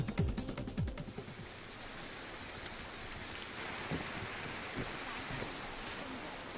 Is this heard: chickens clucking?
no